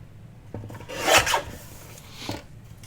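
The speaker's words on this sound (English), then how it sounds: "Now watch me cut my notches off, or my little marks." Short rasping snips of scissors cutting small notches off paper for a paper bag folio, a brief louder scraping burst in the middle with lighter cuts before and after, close up.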